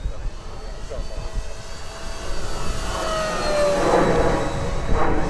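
Twin engines of an Avios KingTwin 1700mm RC plane run at full power, a steady droning whine that swells louder toward the end as the aircraft passes nearer; a faint voice is heard underneath.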